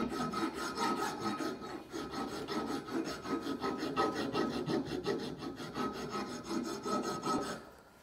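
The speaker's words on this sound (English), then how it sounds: "using a flat file, is make a lead and edge by chamfering the edge of the pipe" A flat file chamfers the edge of a steel pipe before threading, producing close, repeated rasping strokes in a steady rhythm of about two per second that fade at the end.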